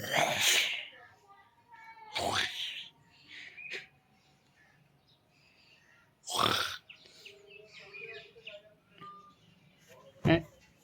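A voice imitating a cat meowing: a few separate, close meow-like calls with quiet gaps between them, and soft vocal sounds in between.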